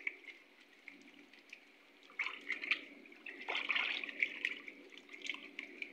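Salted arbi (taro) pieces being rubbed by hand in a bowl of water, giving a steady close wet sloshing and trickling that grows busier and louder partway through, with no speech.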